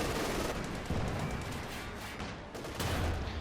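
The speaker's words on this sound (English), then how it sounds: "Another hit there from the anti-tank and on the Hetz's frontal armour" Anti-tank gun rounds striking a Hetzer's frontal armour in a Company of Heroes 2 battle, a loud, continuous barrage of gunfire and impacts with a few heavier bursts, with no speech.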